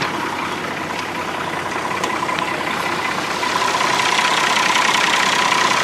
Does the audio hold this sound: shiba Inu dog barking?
no